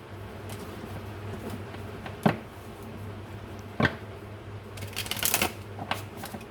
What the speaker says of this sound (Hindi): देन मैं टैरो कार्ड से कुछ कार्ड्स निकालूंगी।